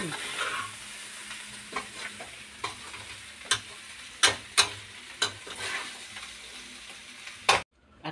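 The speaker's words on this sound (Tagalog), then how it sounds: "nagluluto ng carbonara" Carbonara sizzles and fries steadily in a pan, with periodic scraping clicks of stirring punctuating the continuous close hiss, no talk.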